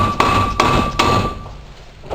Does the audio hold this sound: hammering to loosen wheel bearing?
yes